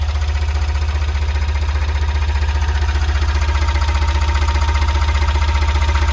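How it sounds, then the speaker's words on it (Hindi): Tata Intra V10 mini truck engine idling after a timing belt change and head work, a loud, steady, even rhythmic chug close by with no talk. "कोई किसी प्रकार की नॉइस नहीं है, स्मूथ आवाज है बिल्कुल इंजन की।"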